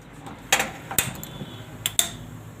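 A gas stove in a home kitchen is switched on while nankhatai is being made, giving several sharp, close clicks in a loose sequence, two of them close together near the end.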